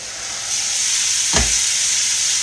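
Onions fry in a pan with a steady close sizzle and hiss, a brief stirring scrape cutting in partway through, no talking.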